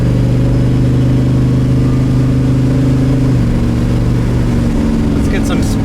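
A car in third gear with a DIY boost controller set to 75% accelerates hard, a loud, steady engine drone rising in pitch with a shift near the end, close and dominating throughout.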